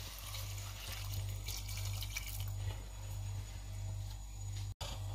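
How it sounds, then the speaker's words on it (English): Water running steadily into a pot for cooking chicken pasta, a soft continuous trickle over a low steady hum, fairly quiet and close, with a brief cut near the end. "I need 1/2 liter of water."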